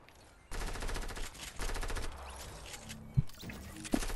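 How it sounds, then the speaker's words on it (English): A minigun in the Fortnite video game fires in long rattling bursts at moderate loudness, with a couple of sharper impact pops near the end. "Here, you got your minigun."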